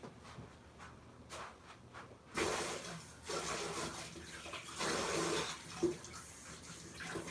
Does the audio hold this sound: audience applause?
no